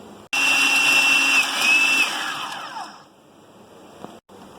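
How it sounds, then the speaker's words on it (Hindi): An electric chopper whirs loudly as it chops chickpeas with fresh coriander, a steady high motor whine that starts abruptly, runs for several seconds with slight pitch wavering, then winds down and cuts off. "और अब हम इसे चॉप करते हैं"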